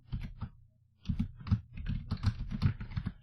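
Computer keyboard typing while setting up Python and PythonRobotics, a brisk run of close, crisp key clicks that pauses briefly and then resumes in an irregular burst.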